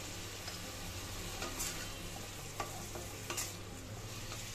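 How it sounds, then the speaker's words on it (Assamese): Vegetables being stirred in a pan with coriander powder and turmeric for a winter lunch, with a steady soft sizzle and repeated scraping strokes of the spoon, close and alone without talk. "ধনিয়া পাউডাৰখিনি দি গোটেইখিনি চব্জিয়ে ভালদৰে লৰাই দিছোঁ"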